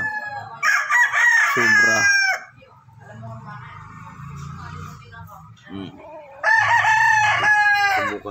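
A chicken with mosquito bites on its face crows loudly and close in two long bursts separated by low clucking and murmuring, with a brief spoken word in the middle.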